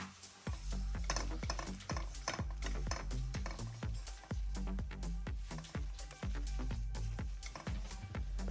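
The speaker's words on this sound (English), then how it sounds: "I'm going to stir this quickly in between each addition" A spoon stirs plain flour into a cheese and onion pasty filling in a pan over low heat, with repeated sharp scraping and knocking strokes against the metal in a brisk, uneven rhythm, close by and with no talking.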